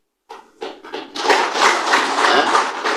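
An audience at a religious lecture breaks into applause, starting as a few scattered claps and quickly swelling into a dense, sustained round of clapping from a large crowd.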